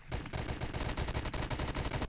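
Rapid gunfire from the online shooter game Kuboom, a dense burst of loud automatic shots in quick succession with no break.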